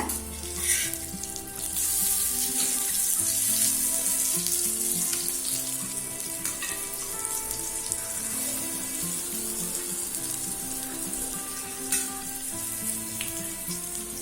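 Slices of raw plantain fry steadily in a pan on low heat for plantain varuval, a continuous close sizzle with small crackles and the occasional stir, and no one speaking.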